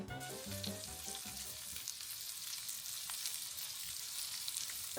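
Salmon browning in a pan aboard a boat, giving a continuous, even, fairly soft sizzle with a few faint stirring sounds near the start and no voices.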